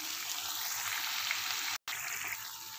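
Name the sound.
chicken and capsicum frying in a pan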